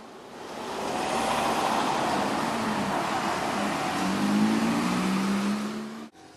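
Cars pass through a road junction where a bike lane crosses and drivers give way to cyclists; steady engine and tyre noise swells as vehicles roll by at close range, then cuts off abruptly near the end.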